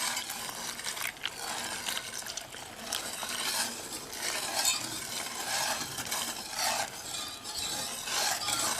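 Whole milk is whisked into a homemade chocolate pudding mixture, giving a continuous, fairly quiet scraping and swishing of the whisk against the bowl that lasts the whole time, with no voices.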